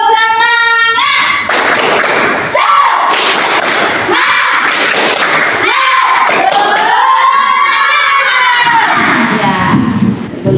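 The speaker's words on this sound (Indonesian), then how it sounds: "Tepuk semangat!" Schoolchildren in an Indonesian primary school classroom chant loudly in unison and beat out a patterned spirit clap, their voices running over thudding group claps in a loud, busy burst.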